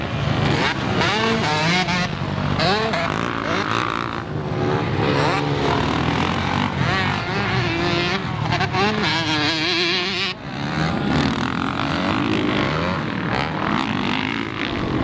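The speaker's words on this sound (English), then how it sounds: "this is Mike's 2017 KX450 that Daniel's riding" A 2017 Kawasaki KX450 dirt bike tearing around the Aztec Raceway motocross track, its engine revving hard and rising and falling through gear changes, loud and close throughout.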